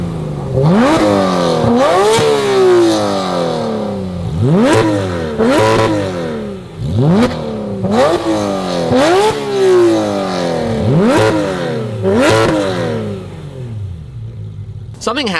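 Two Porsche GT3 RS engines, a red one and a purple one, revved in repeated sharp blips. Each one climbs steeply and falls back, roughly every second or two, loud and close, with a rasping tone throughout.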